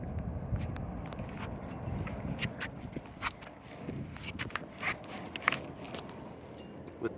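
Small scraping and cutting sounds as a blade shaves plastic around the wheel hole of a Rollerblade Blank skate frame, close up and intermittent over a steady low background rumble.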